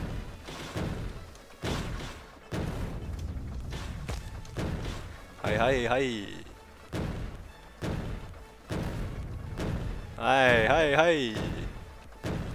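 A tank fires on buildings in the modded factory-building video game Factorio (Bob's and Angel's mods), producing a regular series of heavy booming thuds about a second apart, with someone talking over them.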